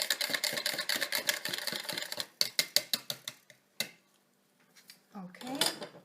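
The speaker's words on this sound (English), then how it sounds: "Let's give it a good mixture with my whisk" Rapid metal whisk strokes beat vinaigrette salad dressing in a bowl, a dense clicking rattle for about two seconds, then slower separate taps, a pause, and a brief final scrape.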